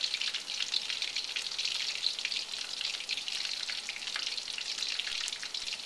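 Pork fries in hot oil on a stovetop burner set between 7 and 8, a dense, continuous crackling sizzle with bright popping, close and steady for several seconds with no talk.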